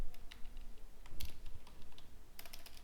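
Quick, light keystrokes on a computer keyboard come in short irregular bursts, close and fairly quiet.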